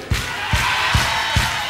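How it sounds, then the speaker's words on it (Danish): Live crowd noise at a concert, with a broad, steady roar of the audience and four low thumps about every 0.4 seconds. The thumps sound like rhythmic clapping or stomping rather than scattered applause. "Klapper I?"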